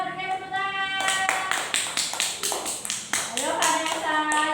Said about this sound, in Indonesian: Ya, berikan tepuk tangan.